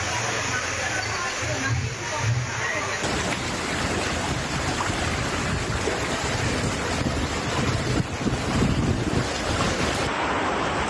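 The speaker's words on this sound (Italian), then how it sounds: "Qua stradina nostra c'è un piccolo fiume in piena che scorre" Small flooded stream rushing in full spate along a little road in Treviso, a steady loud broadband wash of water with wind buffeting the microphone throughout.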